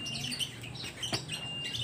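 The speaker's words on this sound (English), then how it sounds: "We have birds." Small birds chirp and tweet in short bright calls outdoors, fairly close, with several overlapping calls and a steady background hum beneath them.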